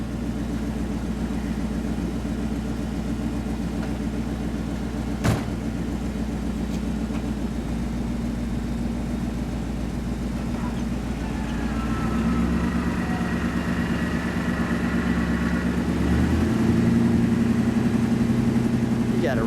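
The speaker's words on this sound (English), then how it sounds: "This is how you put the top on in this car." 1958 Ford Fairlane 500 Skyliner idling steadily as its retractable hardtop mechanism operates. A whirring motor tone joins the engine hum partway through, with muffled voices in the background.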